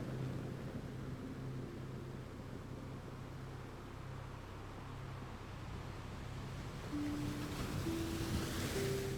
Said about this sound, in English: The sea breathes below the cliff.